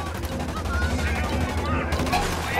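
Sustained bursts of automatic gunfire in Ghost Recon Wildlands crackle continuously at moderate distance, forming a dense, rapid fusillade with no pause across the short stretch.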